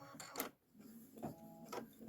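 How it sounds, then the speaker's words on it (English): An embroidery machine sews a tack-down stitch on a candy corn quilt block, giving a quiet, steady mechanical whir with short rhythmic bursts and a brief pause partway through. "It's going to stitch a tack down."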